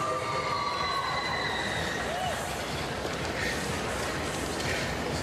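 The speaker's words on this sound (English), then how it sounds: "I think this crowd is still kind of buzzing from that floor exercise" Large arena crowd at a gymnastics world championships, a steady loud murmur of many voices with scattered shouts, filling the space evenly and without pause.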